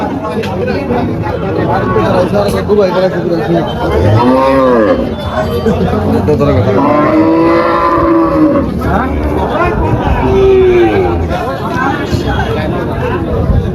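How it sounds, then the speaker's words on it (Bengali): Cattle low loudly and repeatedly at Afzal Mondal's busy cattle market, where many cows are brought for sale. Long, drawn-out moos overlap with constant crowd chatter and nearby talking. "আফজাল মন্ডলের হাটে প্রচুর পরিমাণে গরু উঠছে এই হাটে"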